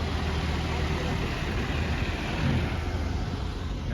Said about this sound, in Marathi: अजून एक गाडी आली इथं